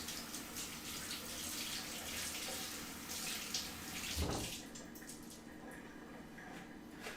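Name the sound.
mushrooms rinsed under running tap water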